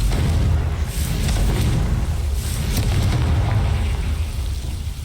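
A deep, rumbling explosion from a Confringo fire spell cast in Hogwarts Legacy, loud and sustained, with bursts of crackle over a heavy low boom that rolls on without pause.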